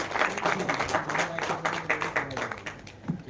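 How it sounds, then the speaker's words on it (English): A crowd claps for the film cast on stage at a trailer launch, a lively, fluttering burst of many hands that swells and dips under some faint talk. "Big round of applause"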